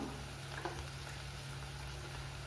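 Eggs fry in a pan for egg pulusu, a quiet, continuous sizzle with faint bubbling and crackling that holds steady throughout.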